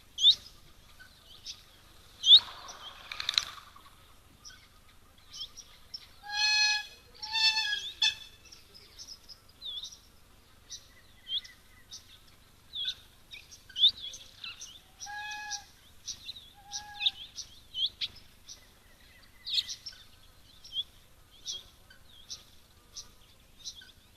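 A hamerkop calls at a waterhole in a few short paired hoots, rising and falling, spread across a quiet scene with scattered small bird chirps and faint rustles in the background.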